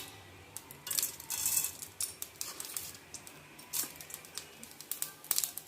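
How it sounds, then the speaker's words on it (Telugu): Mustard seeds crackle and spit in hot oil during a tempering for tomato chutney, a quick irregular run of sharp pops and sizzles with brief busier bursts, fairly close, with no voices. "ఆయిల్ కొంచెం వేడెక్కిన తర్వాత ఆవాలు వేసేద్దాము"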